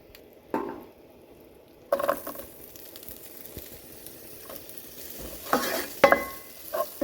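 Ogbono soup with onion frying in a pot while being stirred; near-silence gives way to a steady sizzle, punctuated by irregular clacks and scrapes of the spoon that grow busier toward the end.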